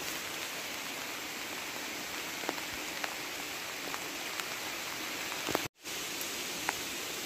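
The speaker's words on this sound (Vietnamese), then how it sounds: "đang bẫy thì trời mưa đấy các bạn ạ. À. Mưa to quá. Trời đang mưa." Steady, heavy nighttime rainfall outdoors while rat traps are being set, a thick continuous wash of raindrops with a few sharper drips and a brief gap in the sound near the end.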